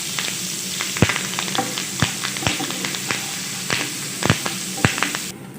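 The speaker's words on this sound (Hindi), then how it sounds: "ज़ीरा डालेंगे आधा टीस्पून, हल्का सा फ्राई करेंगे।" Cumin seeds and finely chopped green chili fry in a pan, with a steady sizzle and scattered sharp pops and crackles throughout, close and fairly loud.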